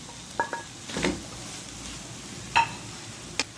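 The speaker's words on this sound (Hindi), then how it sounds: "टेबल स्पून टोमेटो पेस्ट डालेंगे और अच्छी तरह इसको मिक्स करेंगे।" A spoon stirs tomato paste and vegetables in a pan for red sauce pasta, making a few scattered metallic clinks and scrapes over a faint, low sizzle.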